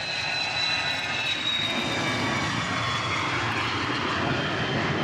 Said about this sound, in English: As another Dassault takes off.